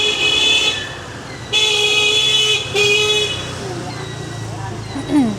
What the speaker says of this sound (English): You're going to hear a lot of honking horns.